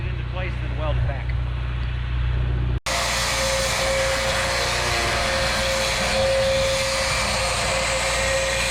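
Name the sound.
cutoff wheel scoring steel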